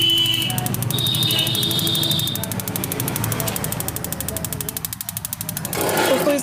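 A gas water geyser running after its cell battery box was replaced, a continuous rushing burner roar with a steady high rapid ticking, close and constant throughout.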